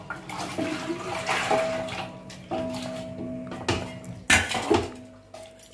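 Water is poured and splashed in a kitchen while making papad, with clattering pots, dishes and utensils knocking sharply at intervals, close by and without talk.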